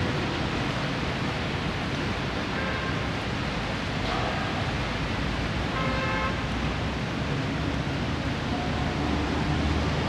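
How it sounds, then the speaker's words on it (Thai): Steady road traffic passes along the far shore of Inya Lake in Yangon, Myanmar, a constant broad wash of engine and tire noise with a few faint distant horn toots and no talk. "ฝั่งตรงข้ามนี่ก็จะเห็นรถสัญจรไปมานะครับ"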